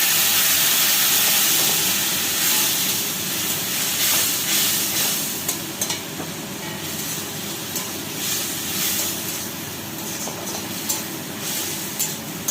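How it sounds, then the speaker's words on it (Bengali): Spice paste with turmeric, salt and a splash of water frying hard in a pan for a fish and potato curry, a loud steady steamy hiss with crackling sizzle throughout. "দিয়ে দেবো একটু অল্প জল, মশলাটা ভালো করে কষে নেব।"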